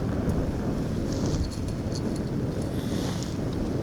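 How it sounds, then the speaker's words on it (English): Strong wind gusts through a 60 mph storm on an open Scottish landscape, a loud, continuous roaring rumble buffeting the microphone without pause. "It's pretty windy."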